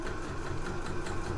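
A domestic sewing machine runs steadily, stitching close to the edge of a shoe bag handle, a continuous mechanical hum lasting throughout at moderate volume with no talk.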